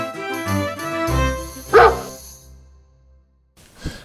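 Dogs bark at a manor house, a couple of loud sharp barks rising over musical tones, followed by a quieter yip near the end.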